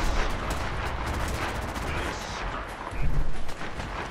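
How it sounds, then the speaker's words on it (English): Repeated heavy cannon blasts in the video game Fallout 4, a dense, continuous barrage of booming shots filling the clip with a louder surge near the end, no talking over it. "fire the cannons"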